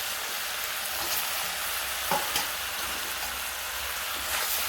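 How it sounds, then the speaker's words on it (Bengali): Fish head tossed into spices frying in a kadai for a Bengali pui shak chorchori gives a steady, close sizzle and crackle, with a couple of brief clinks of the ladle against the pan. No one speaks. "আমি এর সঙ্গে এবার দেখো মাছের মাথাটাও দিয়ে দেবো,"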